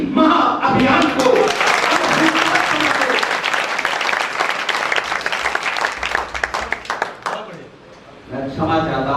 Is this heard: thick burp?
no